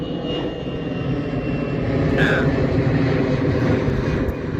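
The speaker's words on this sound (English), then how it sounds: "There's a plane going overhead." An airplane passes overhead at a beach, a steady broad engine roar filling the background for several seconds at moderate loudness with no speech over it.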